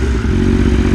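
A 2025 BMW S1000RR sport bike in race mode, its engine thrumming loud and close in a short, steady burst of low mechanical growl.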